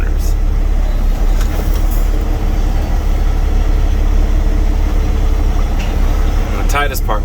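Empty dump truck engine rumbling steadily at close range while backing into a tight spot, a loud continuous low drone throughout, with brief mechanical squeaks near the end.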